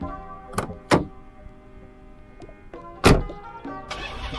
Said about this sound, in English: Here, I'll open the door for you.